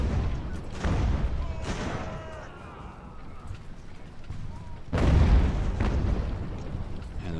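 Ship cannons fire in Ultimate Admiral: Age of Sail as a couple of heavy booming blasts with rumbling tails. A louder volley near the end rises over battle ambience, and a voice talks faintly beneath.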